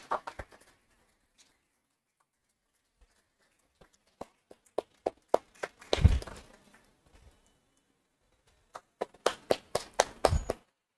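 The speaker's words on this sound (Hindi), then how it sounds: "एक बार जोर से तालियों से स्वागत करेंगे ना" Scattered hand claps from an audience greeting a guest at a defence academy event in Raipur, coming in sparse separate bursts rather than sustained applause, with quiet gaps in between.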